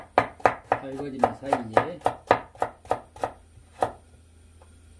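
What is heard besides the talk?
chopping hard ingredients with a knife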